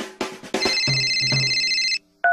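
A cell phone ringtone in a cinema preview effect, a loud electronic ringing tone that sounds close and sustained for about a second and a half, stops, then briefly starts again, after a few short knocks.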